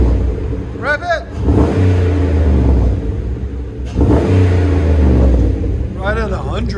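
A 2008 Chevy Impala SS V8 with a muffler delete revs hard twice, each deep throaty roar rising then falling back to a rumbling idle, close and loud, with people talking over it.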